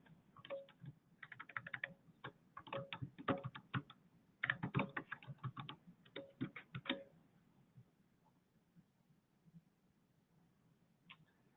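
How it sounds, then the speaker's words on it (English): Quick bursts of keystrokes on a computer keyboard as a password is typed, close and quiet, clustered clicks over about seven seconds then trailing off to near silence. "I'm going to go ahead and enter the password here"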